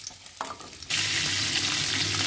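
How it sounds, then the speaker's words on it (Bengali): Drumstick stalks hit hot oil left from frying potatoes and sizzle loudly. Quieter kitchen clatter gives way to a sudden, sustained frying hiss that holds close and steady to the end. "ওই তেলেই আমি সজনে ডাঁটাটা কষে নেব।"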